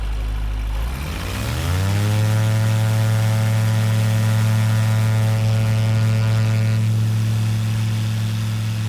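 Light aircraft fitted with an ultralight (ULM) engine running up to full power while held on the brakes, a loud steady drone with a rising pitch that settles into a constant roar.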